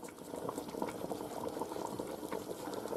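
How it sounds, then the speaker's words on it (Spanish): A pot of chicken and water boiling steadily on the stove for Spanish pollo en pepitoria, a continuous close bubbling and rolling simmer with no voices. "Ahora que está hirviendo, le echamos un poquito de sal"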